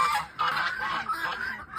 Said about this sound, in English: We got the geese and ducks talking up a storm.